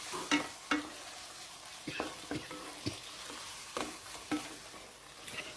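Pork neck sizzles steadily in a hot pan while a utensil scrapes and stirs it in repeated sharp strokes, close up with no talking, while making a red curry paste stir-fry.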